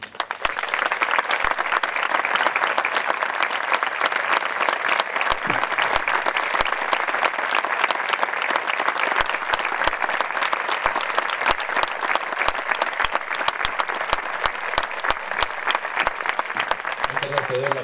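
Sustained audience applause for the director of a town music band at a concert, dense and even clapping from a full hall that continues at a steady level for nearly twenty seconds.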